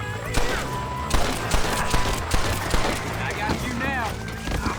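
Gunfire in the Red Dead Redemption video game during a bounty shootout, several sharp repeated shots spread across the moment over a busy game soundscape with music, with someone talking through it.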